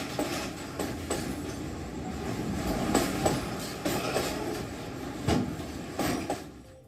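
The Oxygen Express train runs on rails in India with a steady rolling rumble and repeated clickety-clack wheel beats passing over track joints, fairly loud and continuous, with no voices.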